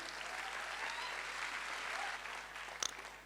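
An audience at a business growth seminar applauds on request, an even, sustained round of clapping from a large crowd, fairly close and loud, with a brief louder clap near the end.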